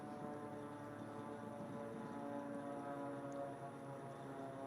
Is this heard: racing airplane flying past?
yes